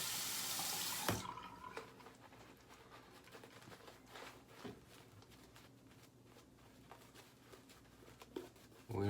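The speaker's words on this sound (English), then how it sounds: "Add a little bit more water to this." Water runs steadily from a tap for several seconds, a continuous hiss with a few small clinks and bumps near the sink.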